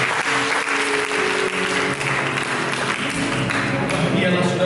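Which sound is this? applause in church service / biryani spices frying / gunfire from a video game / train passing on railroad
applause in church service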